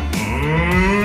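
A man imitates a cow with his voice, giving one short, low, drawn-out moo in a school classroom setting, loud and close with nothing else heard.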